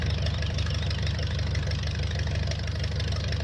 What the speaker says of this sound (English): See, that sound sounds more like the tractor.